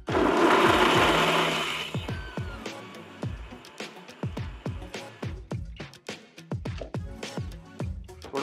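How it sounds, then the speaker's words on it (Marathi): A kitchen mixer grinds coconut chutney: a loud continuous whirring run for about two seconds, then a rapid series of sharp pulsing bursts as it is switched on and off repeatedly. "मिक्सरचं बटन चालू केलंय."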